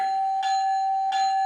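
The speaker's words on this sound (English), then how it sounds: "Bell." Two bright electronic bell dings from a glow-in-the-dark toy train, evenly spaced about a second apart over a steady high tone.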